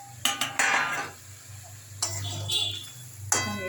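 Eggs being mixed in a cooking pan: a utensil scrapes and clinks against the metal in a few sharp knocks and stirring scrapes over a low kitchen hum.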